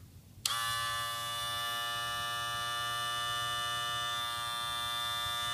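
A My Animal Command MAC600 livestock clipper with a 36 volt DC motor switches on with a click and runs with a steady, fairly quiet electric buzz and hum, alone and close.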